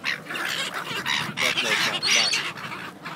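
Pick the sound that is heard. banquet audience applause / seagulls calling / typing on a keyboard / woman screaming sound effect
seagulls calling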